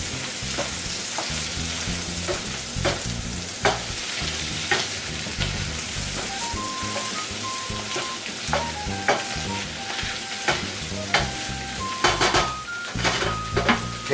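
Goya champuru stir-frying in a pan makes a lively sizzle broken by frequent clanks and scrapes of a utensil against metal, busy and close, with no one speaking.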